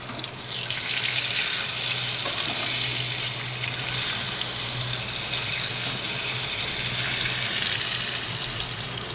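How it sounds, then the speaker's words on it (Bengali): Brinjal slices frying in a pan on a home kitchen stove, a steady, loud hiss and sizzle of hot oil that runs unbroken for the whole stretch, with no talk over it. "তো এই যে বেগুনটা ভেজে নিই"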